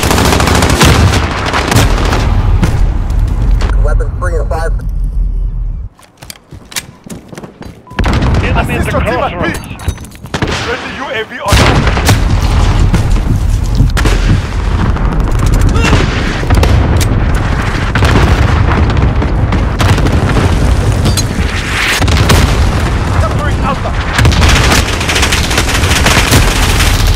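Call of Duty: Modern Warfare gunfire, loud rapid bursts of automatic rifle fire and booming shots, dense and continuous apart from a brief lull, with shouted voices mixed in.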